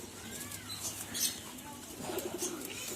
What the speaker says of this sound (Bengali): হুম ঘরের ওড়া পায়রা আছে দেখুন এই যে দেখুন বন্ধু দেখাচ্ছে